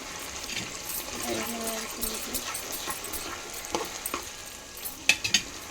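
Spices frying in a pan with curry leaves and coriander, a soft low sizzle with scattered stirring scrapes and a few sharper clinks near the end, fairly quiet with faint background noise.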